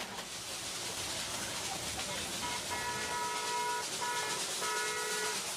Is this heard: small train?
yes